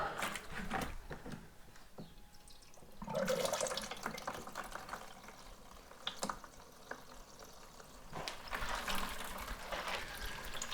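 Wort draining and trickling from a settling mash grain bed while brewing a homebrew light ale, a steady close liquid flow with splashy surges and small knocks, no voices.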